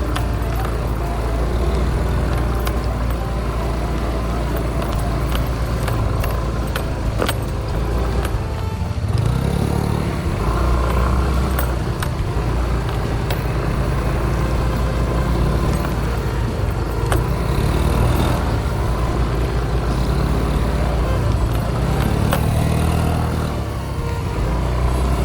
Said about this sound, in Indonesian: Kita hari ini pakai motor Beat juga, karena yang di depan kita juga Beat